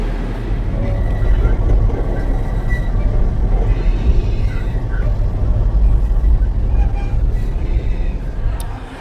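A low, continuous rumble of an airport express train in motion in Toronto, heard from inside with faint rattles and background murmur throughout.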